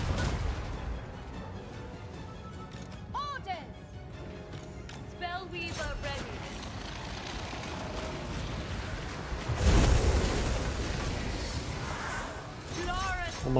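Booming cannon shots in Total War: Warhammer II, several heavy blasts with one big burst near the end, layered over busy game effects and music.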